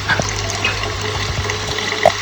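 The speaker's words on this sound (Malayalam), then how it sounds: "നമുക്ക് കുറച്ച് വെള്ളം ഒഴിക്കാം." Water pours in a brief continuous stream into a pot for chicken soup, close by and steady, without any voices.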